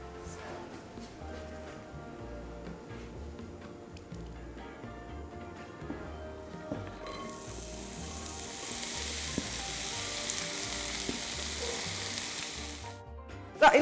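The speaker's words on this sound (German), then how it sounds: "wo die Kartoffeln noch ein bisschen auf dem Herd sind und das Gemüse ein bisschen anbrät" Potatoes and vegetables sizzle and fry in a pan on a stovetop, a steady crackling bed that swells into a louder, brighter hiss halfway through, with a few light clinks near the end and no talking.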